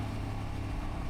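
A 125cc Lexmoto motorcycle engine with an aftermarket exhaust runs at a steady, even drone, close and continuous with no change in pitch across the short stretch.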